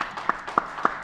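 A few sparse, isolated claps from a small audience at a livestreamed jazz trio concert, three distinct sharp hand claps spaced roughly evenly apart over a faint room background, thin and hesitant rather than full applause.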